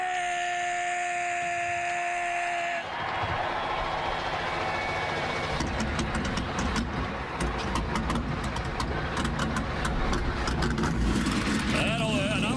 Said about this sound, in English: Fired up the engines, that fired up the crowd.